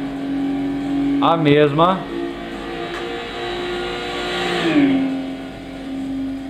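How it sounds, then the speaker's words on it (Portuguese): An Audi TT 3.2 VR6 with a V6 engine and six-speed dual-clutch gearbox hums steadily in Gran Turismo 6, its pitch rising and falling through a couple of revs, loud and continuous while someone talks over it. "Sinta o roncão do V6."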